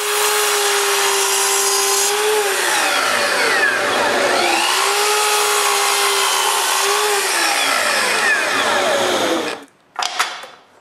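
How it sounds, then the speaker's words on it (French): A power tool cuts wood pieces for the sides of a Festool rail guide jig, a loud steady whine that dips and recovers as the blade bites, then stops abruptly with a brief clatter after. "il faut couper les morceaux de bois pour les côtés"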